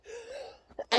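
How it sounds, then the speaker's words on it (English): A short breathy intake builds into a sudden sharp sneeze burst at the end, close and loud. "Three sneezes in one go."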